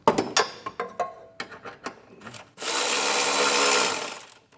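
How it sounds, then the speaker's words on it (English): A power tool snugs down trailer hitch bolts on a 2025 Hyundai Tucson while a Class III hitch is installed, with a series of short clicks and knocks followed by one loud, steady whirring run of about a second and a half. "if you're using power tools, just get it snug"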